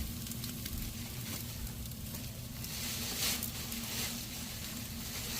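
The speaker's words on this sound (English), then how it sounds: "On the Wagyu one, it has a lot more of the fat sizzling on top." American Wagyu New York strip steak fat crackles and sizzles in a hot pan, a steady close hiss with scattered pops and a slight swell partway through, no voices over it.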